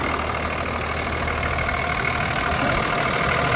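Cummins 24-valve diesel in a 2004 Dodge RAM 2500, with no EGR, idles steadily and close by, a continuous even rumble with a faint clattery knock throughout.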